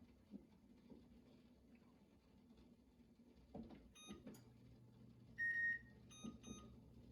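Short electronic beeps from a kitchen timer being set during a homebrew beer boil, a few quick chirps and one longer tone near the end over a low steady hum of the brewing setup.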